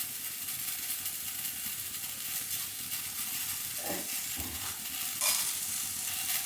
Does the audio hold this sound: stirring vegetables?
yes